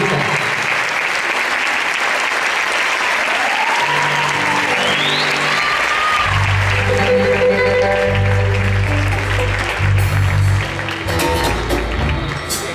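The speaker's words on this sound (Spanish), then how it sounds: "le debemos un fuerte aplauso a Juanpi" Theatre audience at a concert applauding for Juanpi, dense sustained clapping filling the room, with instruments and low music tones entering underneath partway through.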